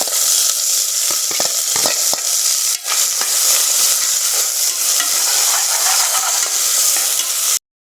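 Onions and green chillies frying in a pan in a village kitchen: a loud, continuous close sizzle with scattered scraping and stirring clicks throughout, no voices.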